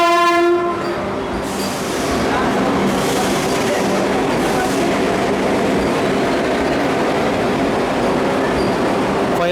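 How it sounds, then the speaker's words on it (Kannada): A new Vande Bharat Express pulls into platform 1 at Yeshwantpur Junction during its inaugural Bengaluru–Belagavi run, its horn sounding loudly at first before a steady, close rumble and rail clatter fill the rest. "ಟ್ರೈನ್ ಅರೈವ್ ಆತ್ರಿ ಯಶವಂತಪುರ ಜಂಕ್ಷನ್ ಪ್ಲಾಟ್ಫಾರ್ಮ್ ನಂಬರ್ 1ಗೆ."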